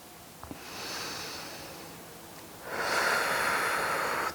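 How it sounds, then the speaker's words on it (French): Slow, audible breathing during a seated yoga centering, a soft breathy inhale followed by a stronger, airy exhale, close and calm with no speech. "On prend juste quelques respirations histoire de se recentrer."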